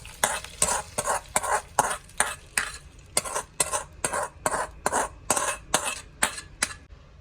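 Fried onions and curry leaves for a mutton head curry tempering sizzle in hot oil. About sixteen quick, evenly spaced scraping bursts come close and loud over a low sizzle, like brisk stirring in a pan.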